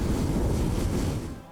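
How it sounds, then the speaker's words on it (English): A rocket booster separation in the Buzz Aldrin's Space Program Manager video game, a dull low rumbling whoosh that holds briefly and then fades away. "we have another booster separation"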